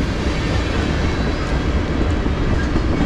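A CSX freight train rolls past close by, crossing a switch, a loud continuous rumble of wheels on rails with a steady clattering roar.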